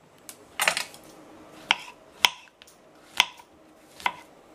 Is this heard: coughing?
no